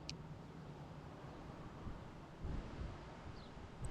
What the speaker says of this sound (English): I'm super like frustrated that this wind has not died down.